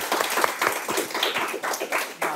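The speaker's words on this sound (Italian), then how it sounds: "Un applauso, ve lo meritate." A small group claps for a couple during an Italian guessing-game show, with uneven, sparse hand claps that rise and fall over a couple of seconds, fairly close, with no talk over them.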